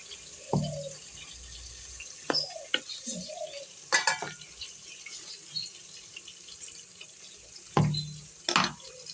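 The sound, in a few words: frying and stirring masala in a pan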